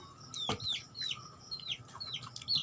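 A chicken gives a run of short, close clucks and squawks in quick irregular bursts over a quiet background.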